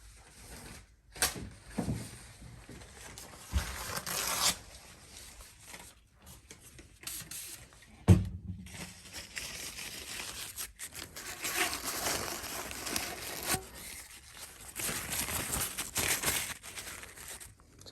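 Paper wipes excess glue from a pole clamp on a broken water-fed pole under repair, producing close crinkling, rubbing and rustling in uneven bursts with an occasional sharper knock.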